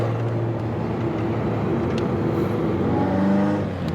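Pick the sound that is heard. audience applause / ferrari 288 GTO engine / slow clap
ferrari 288 GTO engine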